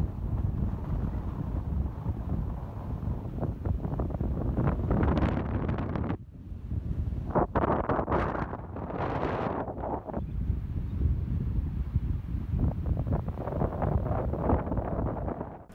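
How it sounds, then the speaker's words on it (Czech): Strong wind blowing on a beach, roaring across the microphone in loud turbulent gusts with a short lull partway through, then rushing on steadily. "A začal foukat neuvěřitelně silný vítr."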